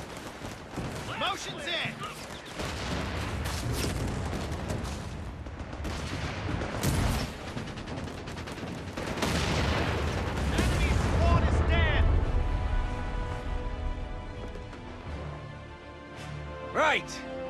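Gunfire during a Company of Heroes 3 Italy campaign battle on PS5: dense rattling bursts and booming explosions layered over rumbling machinery, with soldiers' voices calling out under the din.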